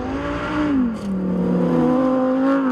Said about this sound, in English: I feel like a child driving and drifting the Sterrato